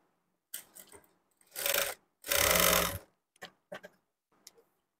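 A sewing machine stitches a Poonam cloth lining blouse in two quick motor runs, a short burst then a longer one, surrounded by soft clicks and handling taps of the fabric and machine.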